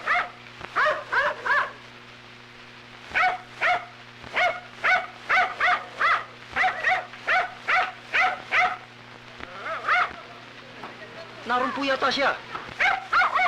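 A dog barks in short bursts and whimpers now and then, mixed in with people talking close by over a steady low hum.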